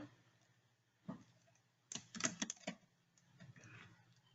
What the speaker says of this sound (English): Type in my username and password.